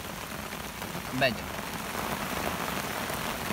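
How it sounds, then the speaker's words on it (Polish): Heavy autumn rain pours steadily onto surfaces at a lakeside carp-fishing spot, a dense continuous hiss of drops, with one short spoken word briefly cutting through. "Tak leje po prostu, że masakra."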